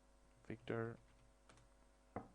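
A few sparse, faint keystrokes on a computer keyboard while entering text into a simple login system, with a brief voice-like sound between the clicks.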